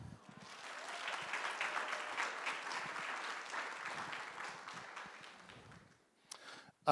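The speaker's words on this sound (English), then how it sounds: "Let's give them a big round of applause, please." An audience at a guide dog graduation ceremony breaks into sustained, steady applause lasting several seconds, then fades out, with a brief burst of clapping at the very end.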